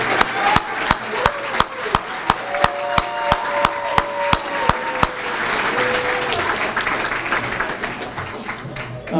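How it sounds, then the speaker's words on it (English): A black-tie gala crowd applauds steadily for several seconds, with loud, regular sharp claps standing out near the front, then the clapping gradually thins. "Let's give them a big round of applause."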